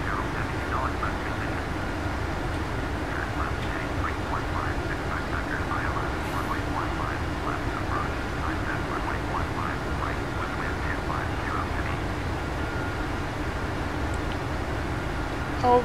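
Steady, loud broadband cockpit noise inside an airliner descending through 20,000 feet at 310 knots on a Bermuda to Toronto flight, a continuous airflow and engine roar with no break throughout.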